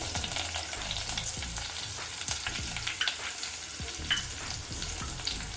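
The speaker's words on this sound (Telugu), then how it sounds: "ఇప్పుడు 1 టీ స్పూన్ వరకు మనం అల్లం వెల్లుల్లి పేస్ట్ వేసుకున్నాము" Ginger garlic paste sizzles in hot oil as a base for jackfruit seed biryani, a continuous close frying crackle with rhythmic stirring scrapes and no talking.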